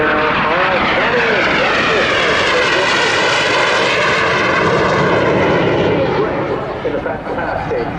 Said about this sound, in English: Fantastic strike master. Really outstanding aircraft.